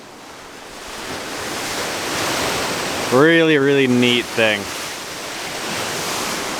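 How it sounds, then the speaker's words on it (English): Steady rush of waves crashing along a shore by a trail, a constant broad roar throughout, with a person briefly speaking over it near the middle. "This really does feel like the ocean. We've got waves crashing."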